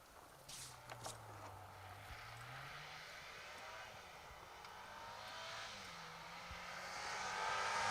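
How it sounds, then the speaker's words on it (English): A Bowler Defender Challenge rally car on a gravel rally stage in the Nicky Grist Stages, approaching a crest: distant, faint engine drone with shifting pitch that slowly grows louder toward the end over open outdoor ambience, with no talking. "the first of the Bowler Defender Challenge cars then comes into view over the crest"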